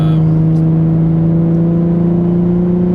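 Steady in-cabin drone of a Nissan 350Z or 370Z with an Invidia Gemini cat-back exhaust cruising in fifth gear around 3000 RPM, a constant low hum with strong even tones and no gear changes.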